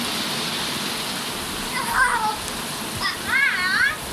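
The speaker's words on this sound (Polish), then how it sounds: "Leje coraz bardziej." Steady heavy rain pours as a constant hiss, while a voice speaks and a bird chirps briefly over it.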